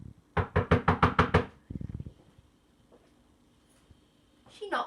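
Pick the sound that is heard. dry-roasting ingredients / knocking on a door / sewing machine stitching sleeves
knocking on a door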